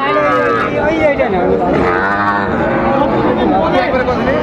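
Young cattle, bulls and heifer calves, moo at a busy livestock market, a drawn-out lowing call rising above loud crowd chatter and nearby voices throughout.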